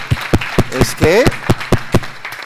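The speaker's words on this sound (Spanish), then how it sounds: "Pero dar un aplauso al chaval." Sparse, rhythmic claps ring out close by in an audience, evenly spaced roughly every quarter second, while someone speaks briefly over them.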